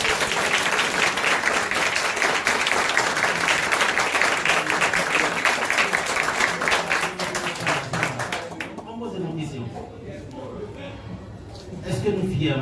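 An audience at a school event for three visiting former students breaks into loud, dense applause that runs for about eight seconds, then fades away as voices talk.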